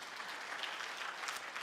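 A church congregation at a praise and worship service claps for Jesus, a fairly soft but continuous wash of many hands heard from a slight distance, with no voices on top.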